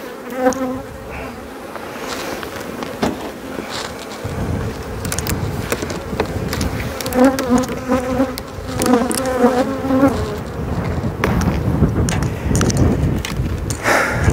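A honeybee swarm building comb on the coast makes a dense, loud buzzing drone with individual bees whirring close by, continuous for the whole stretch with no talk.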